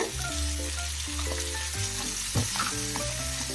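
Tomatoes sauté in ginger garlic paste for a chicken macaroni pasta, giving a steady close sizzle and crackle with occasional stirring, while music plays underneath throughout.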